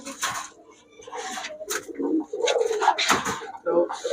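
Highflyer Giribaz pigeons coo softly and repeatedly up close at a pigeon shop, low rolling calls mixed with rustling and a person talking.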